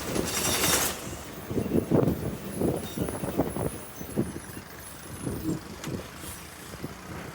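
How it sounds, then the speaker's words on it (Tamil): A train rumbles past close by, a steady low roar with rhythmic clattering pulses and a faint high hiss above. "நம்ம வரும்போது ட்ரெயின் வருது பாருங்க."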